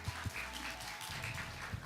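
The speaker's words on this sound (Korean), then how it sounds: "우리 기도를 들으시는 주님께 영광의 박수 올려드립니다" A church congregation at a Korean youth worship service applauds after a prayer, a brief, moderately faint burst of scattered clapping heard from within the room.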